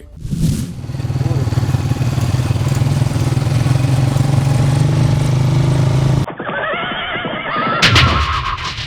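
A motorcycle riding between farm fields approaches, its engine droning loud and steady for several seconds, then the sound breaks off abruptly into different, brighter noises.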